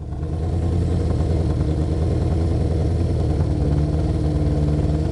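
A Honda CB500/550 motorcycle engine with an idle that hangs up, running close and loud: a steady, throbbing mid-pitched drone that holds a raised idle speed throughout, with no voices.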